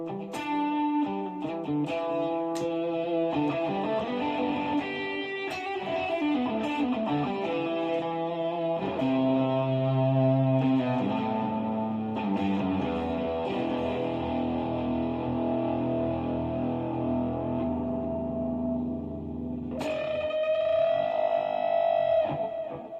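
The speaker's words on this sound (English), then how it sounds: "so I just have a jumbo fuzz dialed in on the HX Stomp" Electric guitar plays chords and notes through a thick, fuzzy distortion from a jumbo fuzz setting on a Line 6 HX Stomp, sustained and buzzing, ending with a bright ringing passage.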